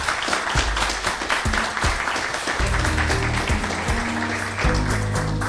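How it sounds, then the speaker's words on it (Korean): A lecture audience for a CEO talk to university students breaks into steady applause, a dense continuous crowd clapping heard close and fairly loud throughout, with a voice briefly audible beneath it. "오늘 너무 열정 어린 강연해 주신 우리 윤 행장님께 다시 한번 여러분 박수 한번 부탁드릴까요?"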